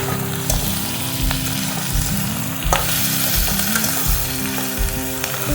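Ginger paste and ground spices sizzle steadily in a hot pan for a Malabar spinach seed and prawn curry, with rhythmic scraping strokes of a spoon stirring through the oil, close and continuous with no talking.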